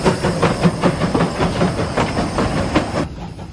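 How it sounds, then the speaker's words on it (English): A train passes close by on the track beside a parked van, a loud rolling rumble with rhythmic clattering wheel beats and hiss, ending abruptly near the end. "he gets excited when the train comes."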